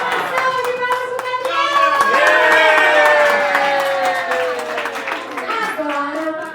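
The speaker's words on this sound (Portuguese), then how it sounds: "Salve de palmas pro" A family party crowd claps and cheers for Gabriel's second birthday, close and lively, with rhythmic hand claps and excited voices, including children, calling out over the clapping.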